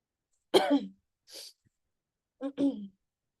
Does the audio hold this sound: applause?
no